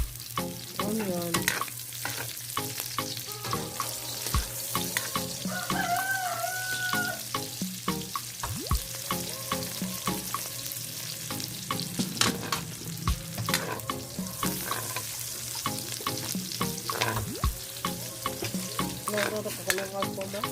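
Chopped onion sizzles and fries in a pan while a utensil stirs it, giving a steady close crackle with repeated scraping and clattering strokes throughout, and no one talking.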